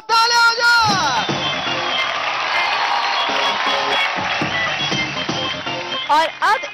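A studio audience at the Dance India Dance Season 4 dance reality show claps and cheers in a loud, sustained roar, with high whoops and yells riding over steady crowd noise throughout.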